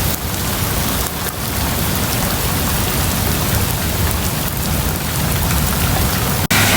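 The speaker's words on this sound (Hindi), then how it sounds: "बहुत बारिश आ गई यार बड़ी बारिश आ गई" Heavy rain pours down in a loud, unbroken hiss of drops drumming on surfaces, with a brief sharp crackle near the end and no one speaking.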